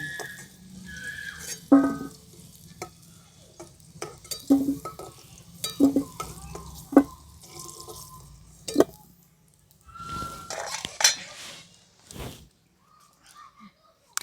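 Potatoes fried golden in mustard oil are scraped and lifted from a pan, with intermittent clinks and scraping strokes over faint sizzling; birds call in the background and a few quiet voices are heard.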